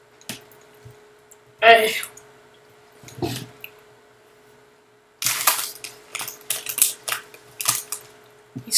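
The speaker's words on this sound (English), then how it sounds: "He's typing something." Rapid clicks of typing on a computer keyboard, heard in bursts during a Minecraft Factions session, with faint scattered taps before a denser run of keystrokes near the end.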